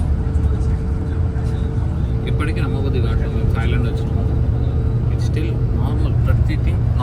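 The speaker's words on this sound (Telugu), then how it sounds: "బస్సులో వెళ్తున్నాము." A bus rumbles steadily on its way from Bangkok to Pattaya, with a constant low engine and road drone heard from inside. Occasional faint rattles sit over the drone.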